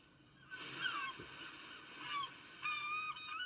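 Seagull-like cries, tagged as goose honks, sound from a beach setting in classic Doctor Who season 2 episode "The Watcher": a few squawking calls mid-distance, then a second burst of calls near the end.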